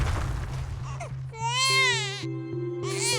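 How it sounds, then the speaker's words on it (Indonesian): A newborn baby cries from inside a giant golden cucumber in a folk tale, loud wailing cries in several bursts with short pauses, heard over a faint ambient hum. "Suara bayi terdengar dari buah timun raksasa itu."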